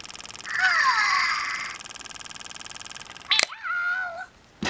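A Bitzee virtual pet toy makes electronic cat meows: a long, drawn-out synthetic mew, then a brief pause and a shorter rising meow after a sharp click, all close and fairly loud with a steady background hum.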